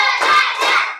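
Students in an Indonesian classroom clap hands together in a counted clapping game, a dense burst of bright, sustained clapping with crowd-like energy, fairly loud throughout and ending abruptly.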